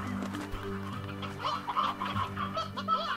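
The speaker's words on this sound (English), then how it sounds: "Shut up, chicken." A chicken in the Slime Rancher video game clucks and squawks in short irregular bursts over a steady background music bed, moderately loud and close.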